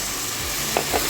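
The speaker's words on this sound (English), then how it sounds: "now I'll take a little bit of coconut milk powder that I dissolved and deglaze" Dissolved coconut milk powder hits a hot pan of curried noodles and cumin turkey, giving a brief, close, continuous hiss and sizzle with a small burst of bubbling.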